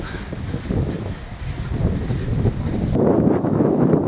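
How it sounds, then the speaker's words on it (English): Steady wind buffeting a smartphone microphone outdoors, a low rumbling roar that grows stronger and gustier toward the end, with no voices. "So windy now."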